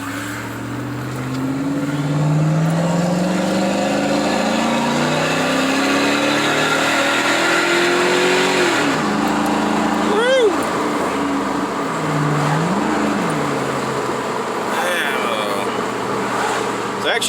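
Car exhaust fitted with a Carven R muffler in place of a Flowmaster Super 10, revving loudly up and down in rising and falling sweeps, with a deep, steady rumble between pulls.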